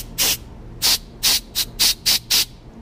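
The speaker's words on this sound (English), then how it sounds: "you're going to hear a little flutter when I use the compressed air" Seven short hissing bursts of compressed air blown through the accelerator pump passages of a Honda CM400/CB450 motorcycle carburetor, close and loud, in an irregular rhythm with a slight flutter, with quiet gaps between them.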